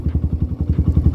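Yamaha FZ 2.0 motorcycle fitted with a Paolucci stage 2 exhaust revving at high RPM, a loud, close, steady pulsing engine drone with rapid rhythmic exhaust beats throughout.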